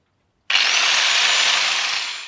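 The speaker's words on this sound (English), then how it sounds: "I started with a sponge disc, I think it's actually called a preparation wheel, on the angle grinder, then swapped to a wire brush wheel" An angle grinder fitted with a sponge-like preparation wheel scours rust off a steel cleaver blade, a loud, steady abrasive hiss that starts abruptly and runs on alone before tapering slightly.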